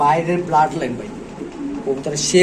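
Pigeons coo in short bursts at a pigeon sale, close by, with someone talking over them throughout.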